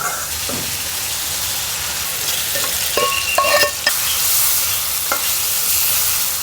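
Spice paste fries in hot oil and is stirred for a sea fish curry: a constant dense sizzle with a few sharp scraping clicks of the spoon against the pan midway.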